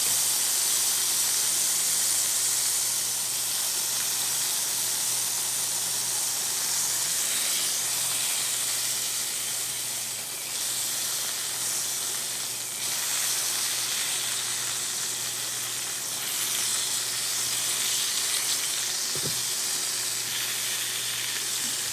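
The fat edge of a steak sears in a hot pan, making a loud, continuous close hiss that holds steady with gentle swells and a single faint knock near the end, with no voices.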